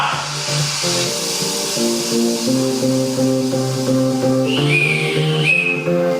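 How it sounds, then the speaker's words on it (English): A whistle sounds during a kettlebell workout, giving short, high, piercing notes late in the clip over a bed of sustained, tonal background music. "That was our whistle."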